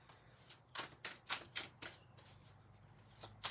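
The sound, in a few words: tarot cards being shuffled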